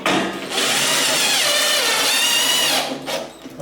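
A handheld power tool whirs loudly as it drives through drywall during framing work, one sustained high-pitched burst of about two and a half seconds that winds down at the end, with no talking over it.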